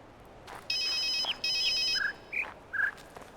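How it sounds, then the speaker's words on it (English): A mobile phone ringtone chimes in The Witness video game, two sustained electronic ringing bursts followed by short rising tonal chirps, clear and close against a quiet background. "I don't like the mobile phone ringing noise."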